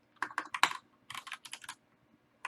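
Fingers typing on a computer keyboard while writing game code, several uneven bursts of close, crisp key clicks separated by short pauses.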